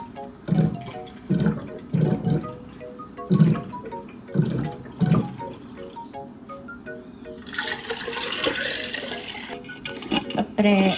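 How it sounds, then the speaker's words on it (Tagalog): Water is drawn from a household tap. Several short, thumping voiced bursts come first, then a broad, steady gush of running water starts near the end and carries on loudly. "So, ayun, magigib tayo ng tubig."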